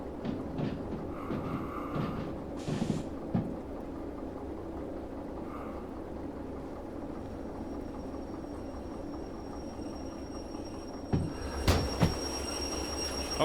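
DM3 diesel locomotive running in a train video game, a low steady rumble of wheels and engine with faint squeals, a few brief clanks and knocks near the end, quiet and with no talk.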